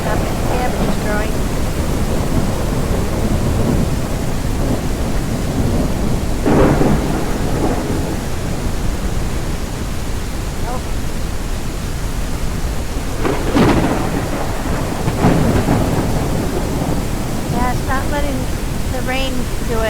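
Rain falls in a thunderstorm in the survival game Dead District, a constant loud hiss of downpour with deep thunder rumbles rolling in at intervals.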